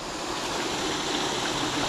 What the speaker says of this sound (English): So that brook goes all the way along the valley there, and it heads towards the main river at the bottom